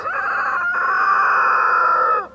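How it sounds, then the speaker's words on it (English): One loud rooster crow, close by and alone, a drawn-out cock-a-doodle-doo held for about two seconds and ending abruptly. "he's one of our chickens, and we love him because he cock-a-doodle-doos"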